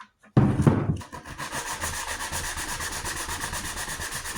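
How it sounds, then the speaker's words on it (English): Sandpaper rubbed by hand over the edge of a drilled hole in a plastic chicken water cup, a steady close scratchy rasping that starts after a brief sharp knock and continues evenly to the end. "Now I'm going to take a little bit of sandpaper over that hole right there, smooth it out on the outside."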